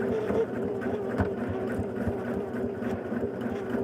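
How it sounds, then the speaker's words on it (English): A sewing machine runs steadily for a few seconds, stitching pieced quilt fabric along a marked line for flying geese blocks; a continuous close motor hum with fine rapid needle ticking and no talk. "turn it over, and sew on the line"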